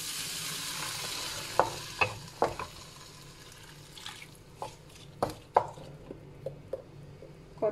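Vegetables for chicken dum biryani stirred in a pan: a soft frying hiss under a string of sharp spoon taps and scrapes against the pan, irregular and close, with a few drips.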